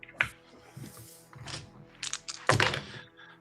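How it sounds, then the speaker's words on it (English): Five dice are rolled during a tabletop role-playing game, giving several hard clattering thunks and a burst of rattling impacts near the end, close and fairly loud with no talk. "That sounds like too many dice."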